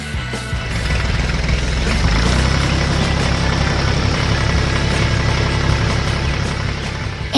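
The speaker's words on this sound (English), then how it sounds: "And here comes the yellow dump truck to finish the job." Yellow dump truck engine running close by, a steady heavy rumbling drone with a constant low throb throughout.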